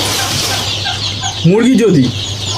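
Chickens in a poultry flock give a sharp, close burst of clucking midway, over a low steady background hum and faint rustling.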